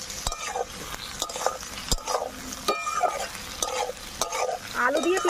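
Potatoes and half-fried chopped onions sizzle in oil in a pan, with rhythmic spatula stirs and scrapes every second or so, close and continuous, no talking.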